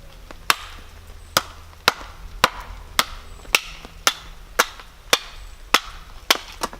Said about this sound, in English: place your knife on the wood like this, get a nice big heavy stick,